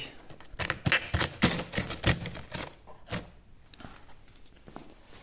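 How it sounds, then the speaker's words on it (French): Delivered parcels being unpacked in a garage workshop, with a quick run of crinkly tearing, rustling and tapping clatter up front, then softer scattered handling noises fading out, with no talk. "Bon, ce qu'on va faire, c'est qu'on va se déballer tout ça."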